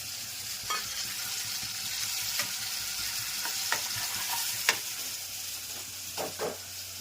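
Baingan oro, a roasted eggplant mash, sizzles steadily in hot oil while a spoon stirs through it, with several sharp scraping clacks against the pan over a continuous close frying hiss.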